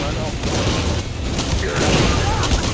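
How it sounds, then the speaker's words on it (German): Dense, continuous gunfire from a Far Cry 6 boat blockade fight: sustained bursts and booms rolling over each other at close range, loud and unbroken throughout, with game noise layered underneath. "Der hat einfach rumgeballert wie so ein Verrückter"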